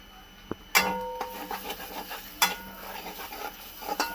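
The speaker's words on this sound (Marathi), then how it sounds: "हे चांगले एकजीव करून घ्यायचे मसाले." Chicken masala spices are stirred and mixed in a hot pan with a few sharp metal clangs of the spoon against the pan, then scraping strokes over a soft sizzle.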